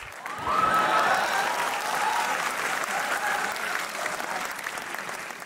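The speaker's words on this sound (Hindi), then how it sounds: "और बजाना है क्या ताली" Audience applause at a large UPSC exam-prep seminar in Delhi, a dense, sustained wash of clapping from a big crowd that rises quickly and holds steady for several seconds.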